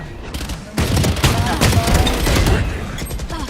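Rapid gunfire in a video game, a loud dense burst of shots that kicks in suddenly and continues with sharp repeated cracks, with game sounds and brief voices around it.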